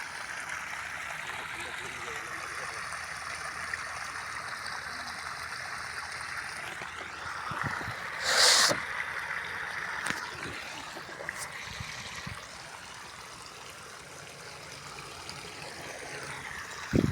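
Water flows steadily across a flooded crop field, a continuous broadband wash with a brief louder gush midway, heard under intermittent nearby talk.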